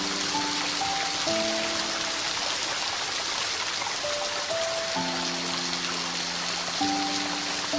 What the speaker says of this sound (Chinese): 山泉水通过竹竿源源不断的被引流到淋浴头那里